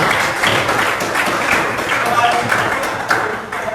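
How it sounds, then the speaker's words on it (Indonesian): Students in a classroom clap together in a dense, steady round of applause that carries on throughout, loud and close, with voices mixed in. "Oke, tepuk tangan dulu."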